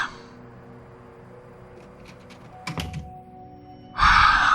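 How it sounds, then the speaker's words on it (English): A door swings shut in an audio drama, giving a solid thunk partway through amid quiet room tone, followed by a louder burst of noise at the end. "Could you shut the door on your way out, please?"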